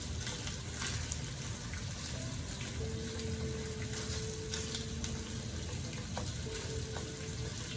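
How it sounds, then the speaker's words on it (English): Sausage meat browning in a sauté pan for keto stuffed peppers, with a steady close sizzle and crackle of frying fat running through the whole stretch, broken by faint scrapes of stirring and no talk. "Browning the meat."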